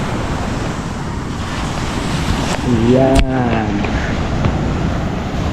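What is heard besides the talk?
sea waves at Bukana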